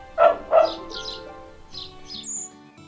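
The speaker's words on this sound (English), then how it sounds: "And there, by the barn, is Ruby Sue, the sheep herding dog." A sheep herding dog on a farm gives two loud, close barks, followed by softer yips and scattered bird chirps in the background.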